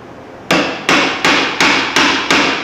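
A wear bushing on a boat gimbal ring transom assembly is driven in by hammer blows on the back of a socket. Six sharp metallic strikes land at a steady, even rhythm, close and loud, with no talk.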